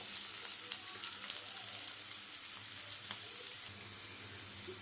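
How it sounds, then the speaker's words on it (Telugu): Chopped onions frying in hot oil for mutton chukka give a steady, close sizzle that crackles evenly throughout, with no talking. "ఇందులో మనం కోసుకున్న ఆనియన్స్, వేసి వేగనివ్వండి"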